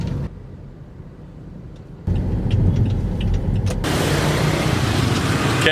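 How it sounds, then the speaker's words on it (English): Street traffic in Vietnam, with cars and motorbikes, rumbles as a steady wash that swells louder partway through and stays dense and close, with no voices. "for now, we gotta get out of traffic"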